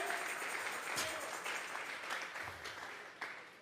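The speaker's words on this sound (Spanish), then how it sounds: "Vas a regalarle ofrenda de palmas al Dios de la gloria." A church congregation claps together as an offering of praise during a Tuesday Bible study service, a steady wash of many hands that fades slightly near the end, heard moderately far off alongside some voices.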